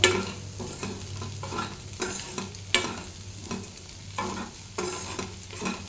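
Ridge gourd and egg curry cooks in a pan, a soft steady sizzle broken by repeated scraping stirs of a spoon every second or so, close by and with no talking.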